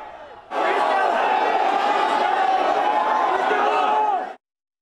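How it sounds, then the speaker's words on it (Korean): A large crowd of fans roars and cheers loudly for Cristiano Ronaldo in a sustained wave of shouting voices, holding steady for several seconds before cutting off abruptly. "호날두를 연호하는 팬들의 함성이 쏟아졌습니다"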